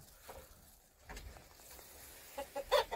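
Chickens raised at a rural Korean home from chicks, clucking faintly in a few short bursts near the end, with a quiet bed of ambient noise and no talk.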